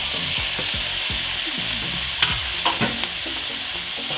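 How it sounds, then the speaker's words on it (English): Drained, rinsed canned black beans sauté in a hot pan with a steady close sizzle, while a utensil stirs and scrapes through them in a few distinct strokes. "Saute that together."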